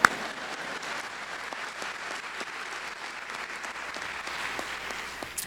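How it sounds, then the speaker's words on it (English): An audience at a journalism graduation ceremony breaks into applause, many hands clapping in a continuous even wash that holds steady throughout, heard from within the room with no speech on top. "Y'all clap."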